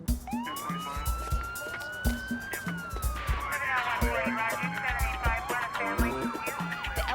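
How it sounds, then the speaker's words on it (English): A county sheriff's police siren wails and sweeps up and down, loud and steady throughout, with a low rhythmic engine or music thump underneath. "County Sheriff's Department showed up in a parade of lights and sirens led by Captain Adams."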